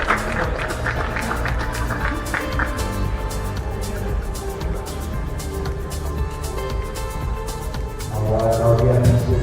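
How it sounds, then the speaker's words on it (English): Crowd applause rolls on steadily at a trophy presentation during the men's grand finals of the Asian Heyball Championship, a dense wash of clapping and crowd noise that swells louder near the end. "Give a round of applause."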